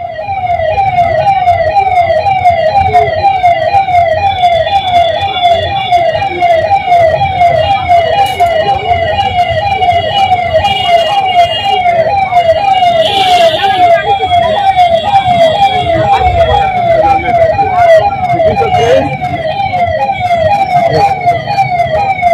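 A fast, rapidly cycling siren yelps on and on for the whole stretch, loud and near, with road noise and a few faint voices underneath.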